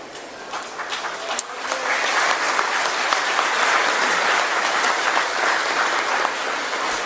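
A large crowd bursts into loud, sustained applause, the clapping building quickly and holding as a thick, continuous roar of hands.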